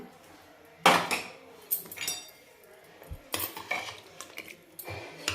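A cooled pressure cooker of mutton curry is opened with a few loud metallic clanks and scrapes of the lid and utensils, close by, in separate bursts over quiet kitchen background.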